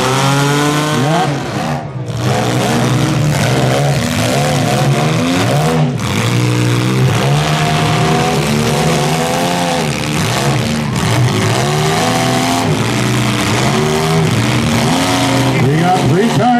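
Mini cars in a pro mini demolition derby heat at Schomberg, Ontario roar and rev nonstop, engines climbing and dropping in pitch as they grind and smash, loud and close, with crowd or announcer voices mixed underneath.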